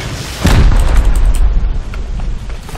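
A loud rocket explosion booms at close range during a base raid in the video game Rust, its heavy blast rolling into a sustained rumble and crackle that slowly fades.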